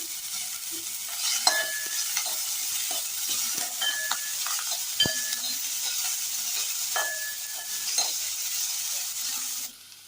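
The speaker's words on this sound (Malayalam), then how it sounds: "ചെറിയുള്ളി നന്നായി ഒന്ന് വഴറ്റിയെടുക്കണം. ഒരല്പം ഉപ്പ് ചേർത്ത് കൊടുക്കാം." Shallots and ginger sauté with a pinch of salt in a pan, giving a steady soft sizzle with repeated scraping stir strokes throughout. The sound cuts off abruptly at the end.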